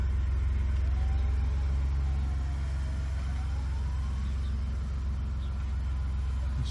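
A 2021 or 2022 Ford Bronco being driven, heard as a steady low engine and road rumble from inside the cabin, constant and fairly loud throughout with no talking.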